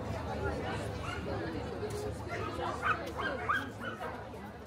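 Dogs yip and bark at moderate distance in Molodyozhny Park, Novokodatsky district, Dnipro, with a steady outdoor crowd murmur and people talking throughout.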